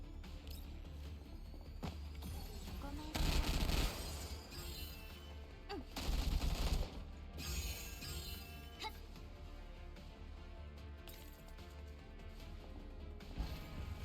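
Heavy machine gun module fire in the video game Girls' Frontline 2: two loud rattling bursts of shots around a second apart, set over a steady game soundscape.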